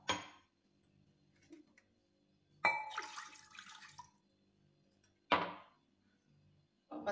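Warm water and milk poured into a bowl for Turkish bread dough, appearing as two short splashing pours separated by quieter handling noises at close range, with no talking.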